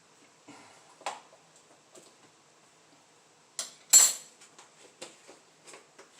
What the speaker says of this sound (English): the ground cinnamon, I put in 1 heaping teaspoon